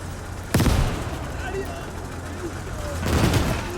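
Anti-tank gun firing in the WW2 strategy game Call to Arms: Gates of Hell, two sharp loud blasts with reverberant tails over battle ambience, spaced about two and a half seconds apart.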